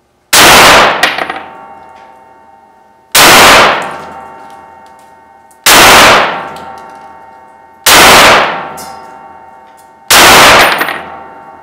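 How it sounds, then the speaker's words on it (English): Five .308 M80 ball rounds fired from an 18-inch Kel-Tec RFB at 20 feet strike AR500 steel armor, each a loud sharp ringing clang with a long metallic decay, spaced about two to three seconds apart, no talking. "now we're going to do 5 more rounds of 308 M80 ball out of an 18-inch Kel-Tec RFB"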